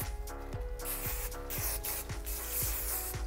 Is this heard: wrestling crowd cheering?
no